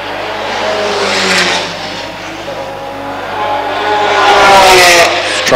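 A Holden Commodore race car in an endurance series race sweeps past on the track, its engine roaring loud and near, then fading and returning as another surge of engine noise builds toward the end.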